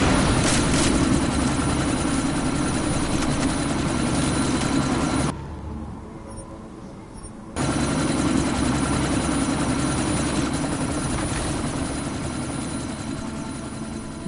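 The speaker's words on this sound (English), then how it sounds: "That chopper's about to take off!" Helicopter rotor and engine from the video game Deus Ex, a loud steady whirring drone that cuts out briefly midway and then resumes at full strength, with no voices.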